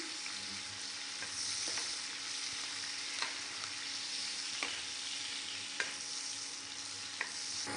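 Onions fry in hot oil for a tori sabzi, giving a continuous close sizzle with occasional light ticks and pops and no voices over it.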